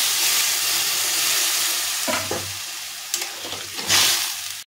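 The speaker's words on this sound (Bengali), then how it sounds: "এখন ভালো করে নাড়াচাড়া করে নেব। এখন এর মধ্যে জল ঢেলে দেব।" Khesari dal is stirred in a hot pan with a loud continuous sizzle and hiss, while a spatula scrapes and knocks against the pan several times toward the end; no one speaks.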